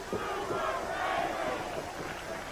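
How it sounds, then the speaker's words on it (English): A wrestling arena crowd chants for the luchador Super Crazy in rhythmic, loud unison, with cheering voices filling the hall. "The crowd starting out with a Super Crazy chant."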